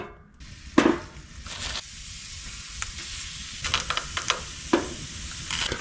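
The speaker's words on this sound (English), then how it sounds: "Got some very frozen potatoes. Great way to test oil to see if it's hot enough." Very frozen potatoes dropped into hot peanut oil for a country fried steak dinner outdoors: a steady close hiss and crackling sizzle with a few sharper pops and bursts throughout.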